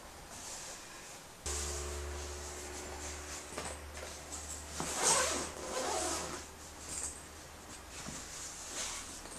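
Small trading cards being unwrapped from their packaging, soft close-up crinkling and rustling with a faint low hum starting partway through, no voices.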